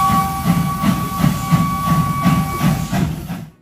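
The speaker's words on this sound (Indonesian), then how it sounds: "yaitu kereta uap." A rare steam locomotive hauls a sugarcane train at PG Rejosari in Magetan, its steady rhythmic chuffing and hiss loud and close, with a faint high whistle-like tone running throughout and no talk.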